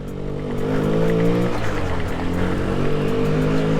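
A 2005 Honda Zoomer 50 scooter's small engine hums loudly and steadily up close, pitch rising slightly as it pulls away.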